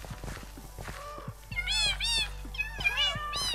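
Several cats meow repeatedly in Minecraft, PlayStation 4 Edition, their high, drawn-out calls overlapping and growing louder and busier in the second half over a low game background hum.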